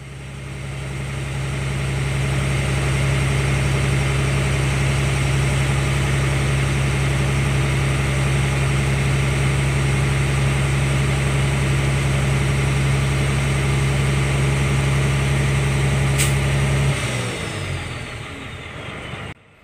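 A Hino Lohan truck diesel engine runs loud and close with a steady low drone for most of the stretch before cutting down near the end; no speech.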